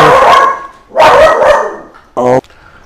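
A dog barks near young puppies, a few loud, sharp barks in separate bursts with a short, higher yelp, close by and indoors.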